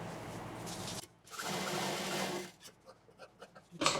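A sewing machine stitches handbag fabric in a short steady run, then stops, followed by a few quieter intermittent noises and a brief burst at the end.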